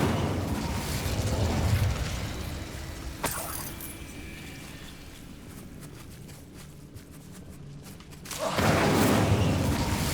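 An Incendio fire spell is cast in the Hogwarts Legacy video game, heard as a rushing, fiery roar with a sharp burst about a third of the way in, fading to a low rumble before surging loud again near the end.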